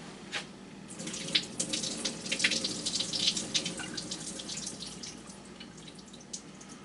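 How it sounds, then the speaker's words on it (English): Water pours and splashes steadily as it is drained off frozen mixed vegetables into a kitchen sink, a close running stream with scattered drips and spatters that swell in the middle and then taper off. "I'm going to drain the water off this stuff."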